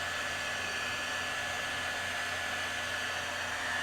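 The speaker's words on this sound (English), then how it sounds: "So just keep your heat gun moving." A heat gun blowing steadily on a sublimation wrap around a tall tumbler, a constant close whooshing hum of hot air without pauses or voices.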